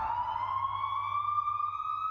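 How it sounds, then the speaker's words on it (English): A police siren with a single sustained tone that rises slowly in pitch, clear and steady against a quiet, low background. "For most drivers, we hear a siren, we react."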